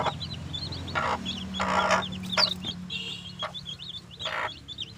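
Hens cluck and murmur in short bursts over a steady low hum, with faint chirps scattered throughout.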